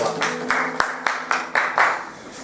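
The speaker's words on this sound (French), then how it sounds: "Acclamez pour la parole de Dieu." A church congregation claps in a quick burst of applause, several sharp hand claps standing out over a muffled room, with a little voice underneath.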